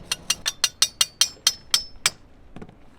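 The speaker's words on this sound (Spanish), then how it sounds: "agarro un martillo" A hammer strikes metal parts of an abandoned boat about ten times in quick, sharp, ringing taps that slow slightly toward the end, followed by a softer knock.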